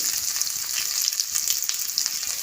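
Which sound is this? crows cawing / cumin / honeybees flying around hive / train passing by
cumin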